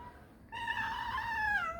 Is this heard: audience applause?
no